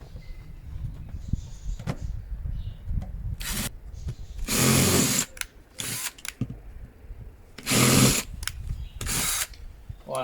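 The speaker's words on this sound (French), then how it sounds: "la perceuse" A power drill bores into a fishing boat under renovation in several short, loud bursts separated by pauses, with handling noise and quiet background sounds in between.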